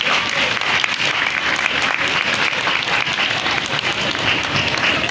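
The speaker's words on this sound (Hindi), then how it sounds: "तो आपकी पुरजोर तालियों में तशरीफ लेकर आते हैं तैमूर डाडा।" A loud, sustained crowd applause welcomes a costumed performer at a Karachi safari park event, dense clapping from many hands holding steady throughout without pause.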